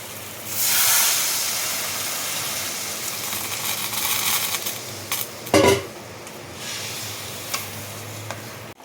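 Water poured into a hot pan of frying fish and potatoes bursts into a loud hiss that settles into steady sizzling, with a clink of utensil against the pan partway through.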